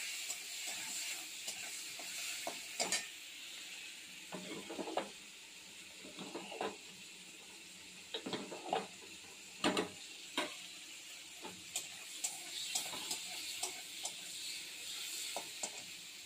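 A curry of dried hilsa fish, potatoes and vegetable stems cooks quietly: a soft sizzle and steam hiss sit under repeated scattered clinks and scrapes of stirring.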